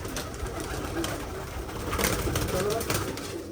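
Pigeons in a loft in hot weather, several birds cooing in soft repeated low calls over a busy background with some faint voices.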